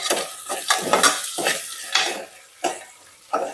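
Peanuts being stirred in hot oil in a pan for an aloo bath breakfast: a spoon scrapes and clinks against the pan in uneven strokes, with several sharp knocks and a faint sizzle between them.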